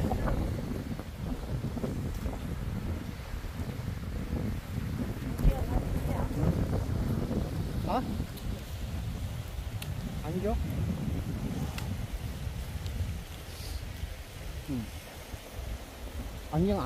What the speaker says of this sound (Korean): 바람이 불었어요.